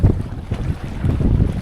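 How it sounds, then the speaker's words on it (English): Strong wind gusts buffet a small fishing boat anchored on the Hawkesbury River, a loud rushing roar with microphone wind noise and faint water lapping, with no talking. "Getting definitely a mad gust through here."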